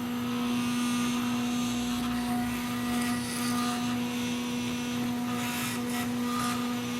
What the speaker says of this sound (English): Turn on the motor.